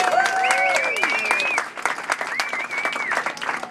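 A nightly welcome show crowd in Hawaii breaks into a round of applause with whoops and whistles, loud and lively, while a voice calls out over the cheering.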